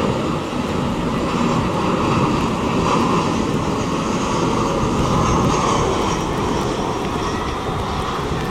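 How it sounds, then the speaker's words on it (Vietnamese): A Vietjet Air airplane lands on runway 25R in rain, its engines giving a loud, steady broadband roar that holds evenly throughout. "bây giờ chiếc máy bay đang hạ cánh xuống đường băng 25 phải"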